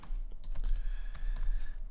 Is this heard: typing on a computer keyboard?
yes